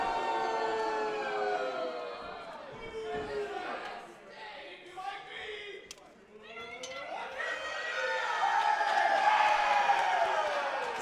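A wrestling crowd in Havre de Grace roars and cheers at an FWA event, a broad sustained wash of voices that dips briefly midway and then swells louder toward the end.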